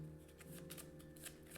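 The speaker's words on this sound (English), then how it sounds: "We're going to shuffle back up these cards." A deck of board game cards is shuffled up close, a series of quick crisp riffling bursts over a faint steady background hum.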